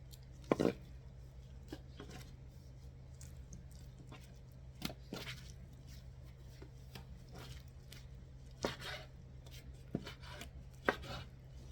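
Pork being chopped with a knife on a board, a series of sparse, irregular thuds and taps over a low steady hum, fairly quiet and with no talk.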